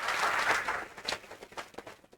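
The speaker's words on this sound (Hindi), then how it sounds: "तालियां हो जाए।" A crowd at a family celebration claps, a dense burst that thins into scattered claps and fades within about two seconds.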